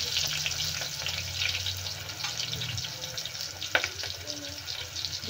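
Chopped onion and cumin seeds fry in hot oil, a steady close sizzle running throughout with faint clinks and stirring noises, no voices.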